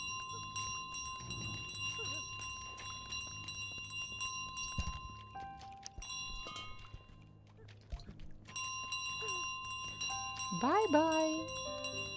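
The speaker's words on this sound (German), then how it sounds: "Entschuldigung, das ist meine Glocke." A bell carried by the goose in Untitled Goose Game rings steadily in short jingling strokes over game music, with a few thunks midway and a brief spoken word near the end.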